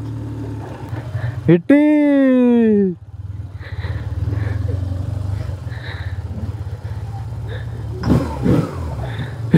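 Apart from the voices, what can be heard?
motorcycle engine noise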